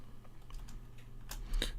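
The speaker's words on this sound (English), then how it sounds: "What am I typing in?" A few quick keystrokes on a computer keyboard while searching online, soft irregular clicks that are faint and close.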